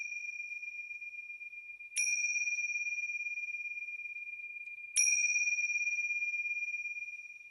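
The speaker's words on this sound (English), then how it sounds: "And now I'm going to start our practice with 3 bells." A meditation bell is struck twice, a few seconds apart. Each clear, bright tone rings on and slowly decays in an otherwise quiet room.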